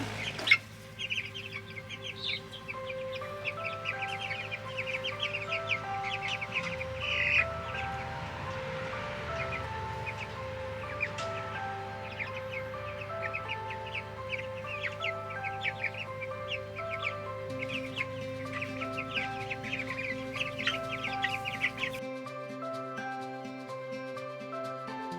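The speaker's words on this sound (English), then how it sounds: "Check on the baby meat birds that we put on, the last batch of baby meat birds we put on pasture." Young meat chickens on pasture cluck and peep softly and continuously at close range, over a steady low mechanical hum.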